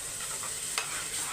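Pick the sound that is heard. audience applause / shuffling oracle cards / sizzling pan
sizzling pan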